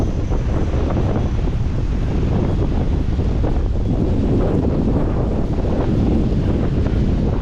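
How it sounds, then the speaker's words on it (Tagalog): Strong, steady night wind roars and buffets the microphone on Casapsapan Beach, Casiguran, Aurora, Philippines, with the rumble of rough waves beneath, loud and continuous throughout. "gabi na, lalo po lumakas yung hangin. Yun o, yung dagat nagwawala."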